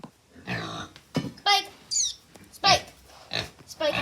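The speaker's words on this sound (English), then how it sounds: "we have another pig" A pig on a farm grunts and snorts in short, irregular bursts close by, with a few higher squeals between them.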